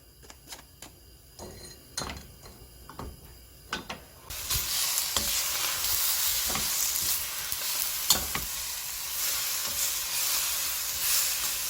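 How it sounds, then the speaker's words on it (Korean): Beef and minced garlic are stir-fried for Korean beef seaweed soup. A few close utensil taps come first, then a loud, steady sizzle bursts in and continues, broken by occasional scraping stirs, with no talking. "먼저 고기랑 넣고 이렇게 볶아주면 돼요."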